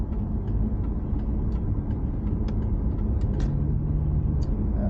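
A Ford Mustang with a freshly rebuilt transmission sits with its engine running at operating temperature, giving a steady low idle rumble that stays even throughout, with no talk over it.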